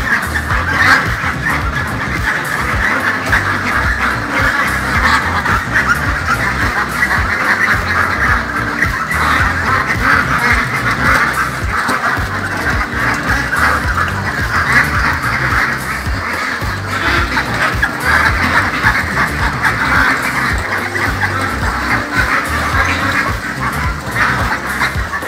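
Many ducks quack continuously at a closed-system breeding duck farm in Kế Sách, Sóc Trăng, with raised feeding platforms and a bathing pond. The flock's calls form a dense, loud, steady chorus throughout, with no talking.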